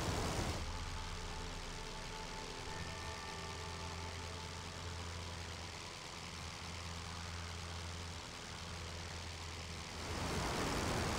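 Steady droning propeller engine of a Sopwith Pup biplane cruising in flight in the Rise of Flight game, a continuous tonal hum at even volume with no speech.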